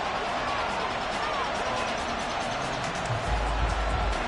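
Stadium crowd in the Madden 24 video game during a Packers vs Lions match, a steady dense roar with a low rumble building near the end, under a commentator's voice.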